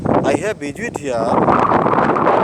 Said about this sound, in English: really the wind is much wind is blowing